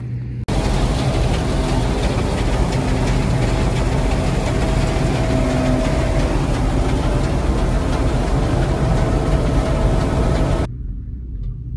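Tractor engine idling in the cab during a rapeseed harvest, a grain trailer hitched behind, a steady low rumbling drone with a constant hum that runs unbroken for about ten seconds before cutting off abruptly.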